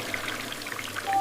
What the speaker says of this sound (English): George turns on the shiny tap. The water comes out fast.